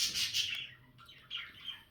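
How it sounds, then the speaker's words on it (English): Pet birds indoors let out a few faint high chirps and tweets in short bursts, quiet and close, with no voices. "Don't mind my birds."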